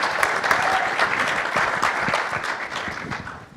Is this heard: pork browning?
no